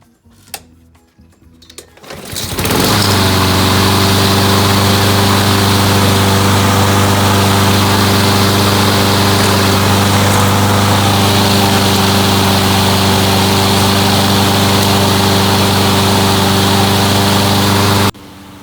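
Honda GCV160 engine on a Craftsman lawn mower starting after a pull, then running at a loud, steady, close drone that continues without a break to the end.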